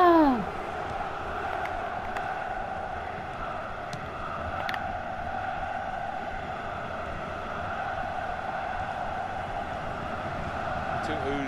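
Virtual stadium crowd in a Dortmund career-mode football video game swells into an ooh at a near miss, then keeps up a steady loud roar and murmur for the whole stretch without any talk.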